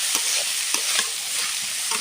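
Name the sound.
Malabar spinach stems and seeds being stir-fried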